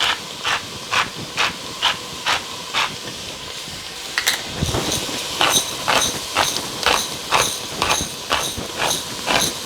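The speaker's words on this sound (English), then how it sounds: "Let's just saute these for a good 3 or 4 minutes." Onions, celery, garlic, salt and pepper saute in bacon grease in a pan, giving a steady close sizzle and hiss broken by a regular pulsing crackle with no voices.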